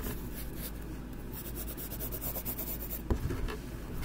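A pencil scratches and rubs on paper in quiet, continuous strokes, close and soft, with a slightly louder stroke near the end.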